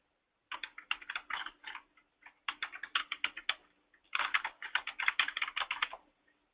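Someone types an abstract title on a computer keyboard in three quick bursts of crisp key clicks, separated by brief pauses, close and alone.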